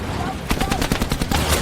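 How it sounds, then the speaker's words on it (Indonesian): Rapid bursts of gunfire from an action film shootout, with repeated sharp shots fired in quick succession over a continuous background of noise and some voice. "dia bersama anak buahnya mengejar, membuat beberapa anak buah Sam terkena tembakan"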